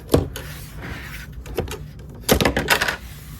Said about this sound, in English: we will show you the side door.